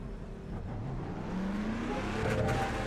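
A car on a racing circuit revs and accelerates, its engine a loud, steady roar that climbs in pitch as it pulls away.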